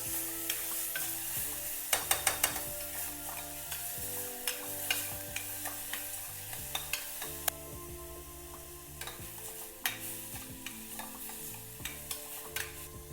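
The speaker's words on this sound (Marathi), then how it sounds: "कांदा टाकून घेते कांदा पण चांगला परतून घ्यायचा" Onion sizzles as it sautés in a pan on the stove, a soft, steady frying hiss broken by repeated sharp clicks and scrapes of stirring.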